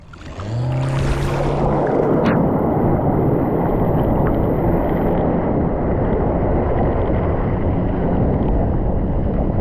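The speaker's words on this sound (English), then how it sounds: "water skiing behind a 60 horsepower pontoon boat" A loud, continuous roar of a 60 horsepower pontoon boat engine towing a water skier, with rushing water mixed with heavy wind buffeting, constant and close throughout.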